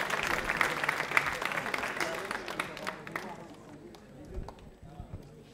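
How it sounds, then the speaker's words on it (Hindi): Audience applause at a Hindi quiz show, dense clapping for the first few seconds, then thinning and fading toward the end, with a voice speaking over it. "तालियां जोरों से बजाइए, जोरदार तरीके से बजाइए"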